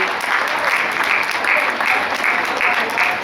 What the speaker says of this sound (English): Let's give them a round of applause for coming out and bringing all of this delicious food.